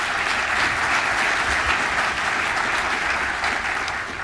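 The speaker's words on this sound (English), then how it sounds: "please give him a round of applause" Loud, dense applause fills a bowling convention meeting hall, a crowd clapping steadily and close for a few seconds before easing slightly.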